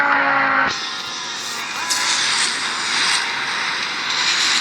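Nitro boost firing on a car in a racing video game: a sudden loud whooshing roar that cuts in after a brief tone and then holds as a steady, bright rushing drone.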